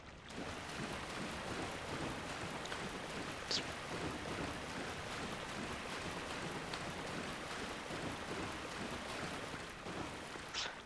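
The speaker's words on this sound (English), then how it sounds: "That splashing sound is just so obnoxiously loud in my ears through my headphones" Steady, loud rush of splashing water in the video game Dark Souls fills the whole stretch, with a few faint sharper splashes breaking through and no talking.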